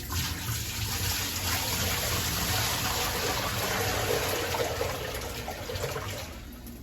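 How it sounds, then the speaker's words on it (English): Dirty aquarium water from a Fluval 207 tank cleaning pours out of a bucket in a steady, full rush of splashing water that tapers off at the end, with no voices. "So now the dirty water, just dump it out."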